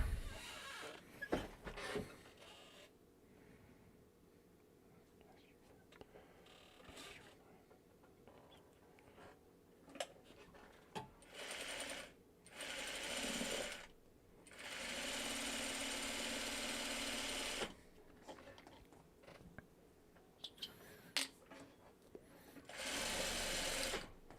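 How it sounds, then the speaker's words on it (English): A sewing machine stitching fabric runs in several bursts of steady mechanical whirring, stopping and starting between stitches, with handling noises in the pauses. "So let's take this to the sewing machine."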